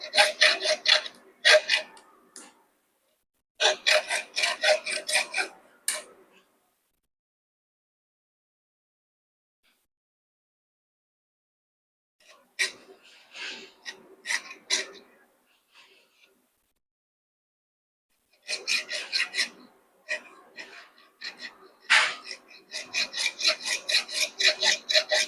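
Bursts of rough, rasping strokes from a hand saw cutting, in rhythmic runs separated by quiet pauses, fairly close.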